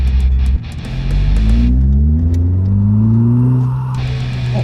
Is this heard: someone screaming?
no